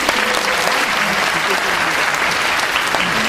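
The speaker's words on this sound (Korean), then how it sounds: "힘찬 박수 한번." Hearty audience applause at a mock job interview session of a joint public-agency recruitment fair, dense continuous clapping filling the room at close range.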